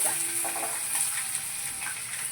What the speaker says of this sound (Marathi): अशी मिरची छान भाजली ना थोडी खरपूस कि बटाटा घाला